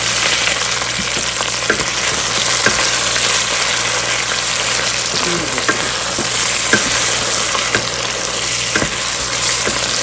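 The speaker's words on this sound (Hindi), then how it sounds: "अब थोड़ा सा अदरक लहसुन के पेस्ट को हल्का सा फ्राई करेंगे इसमें ऐसे" Ginger garlic paste fries lightly in a pan for a chicken and chana dal dish, giving a loud, steady close-up sizzle with occasional soft taps over a constant hum.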